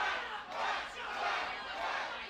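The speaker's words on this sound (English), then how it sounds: "you can hear that the crowd's still into it. There's crowd noise happening." A crowd at a live indie wrestling show roars and chants in broad, swelling waves of cheering and shouting that rise and fall steadily across the moment, heard from within the arena.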